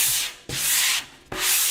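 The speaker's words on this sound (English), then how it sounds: "We have been sanding away at our chassis here" Three long, loud strokes of sanding on a vehicle chassis, each a steady abrasive rasp broken by brief gaps, close up with no voices.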